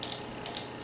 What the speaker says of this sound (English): All this clicking kind of gets on your nerves in a few seconds.